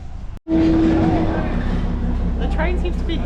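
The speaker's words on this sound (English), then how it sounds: "The train seems to be here." Darjeeling Himalayan Railway toy train pulling into a station, a loud sustained rumble and rattle of the carriages rolling in close by, with voices and station chatter mixed over it.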